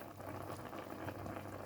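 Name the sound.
chicken adobo boiling in pot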